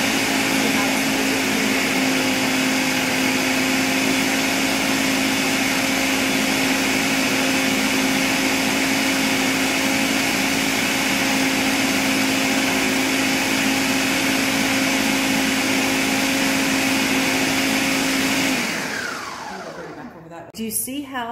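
A blender grinds pecans into pecan butter with a loud, steady motor whine and churning roar that runs unbroken for about eighteen seconds, then winds down abruptly as the motor stops.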